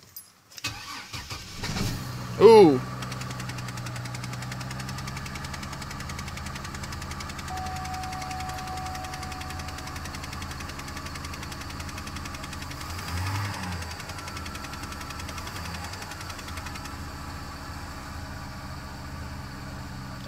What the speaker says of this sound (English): we're going to do a cold start on 2002 Chevrolet Trailblazer